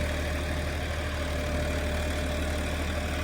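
A John Deere tractor engine labors steadily while pulling an 8-foot rotavator through soil, a loud, continuous close-up drone with no break.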